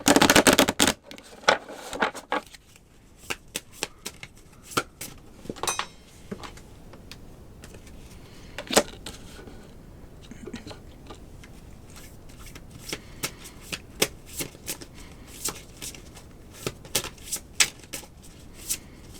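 Tarot cards being shuffled by hand during a card reading, a steady run of crisp riffles and flicks with sharper snaps at the start, close and clear, no talking.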